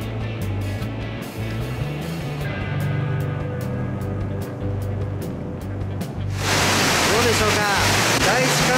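Fukuroda Falls in Ibaraki, Japan, seen from a viewing deck. A low rumble and murmuring voices give way to a loud, broad roar of rushing water that stays strong to the end.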